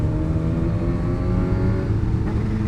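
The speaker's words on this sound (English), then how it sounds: "See how crispy the downshifts are?" A Kawasaki ZH2 motorcycle fitted with a full aftermarket exhaust runs through downshifts, producing a loud, continuous, raspy engine roar heard up close and without any talk.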